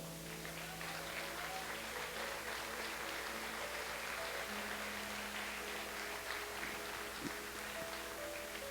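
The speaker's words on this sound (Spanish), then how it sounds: "Dale el aplauso" Sustained applause from a church congregation, a steady dense wash of many hands clapping at even loudness throughout, with faint tonal sounds underneath.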